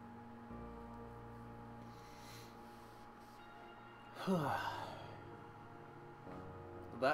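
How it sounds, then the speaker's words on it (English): A single drawn-out human yawn rises briefly from a quiet, hushed room during a relaxed tarot reading session, soft and close, with a low steady hum beneath. "That was a yawn."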